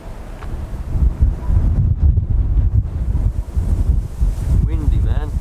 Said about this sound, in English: I've got a funny feeling you ain't going to hear anything but wind